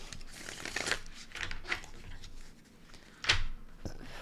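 Playing cards being shuffled during a card reading, with several soft riffling bursts near the start and a sharper, louder riffle toward the end, heard alone without talk.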